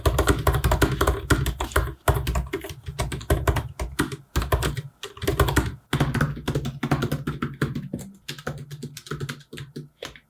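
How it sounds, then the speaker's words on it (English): Fast, crisp typing on the keyboard of a 2021 16-inch MacBook Pro, close and loud, in dense bursts of key taps broken by short pauses. "Typing on this keyboard is fantastic"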